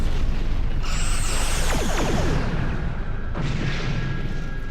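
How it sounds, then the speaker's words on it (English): High-yield torpedoes and overloaded phasers fire in a Star Trek starship combat game, with sweeping sci-fi energy zaps and descending tonal whooshes over a steady loud rumble, followed by a second burst of weapon fire. "High yield torpedoes and overload phasers."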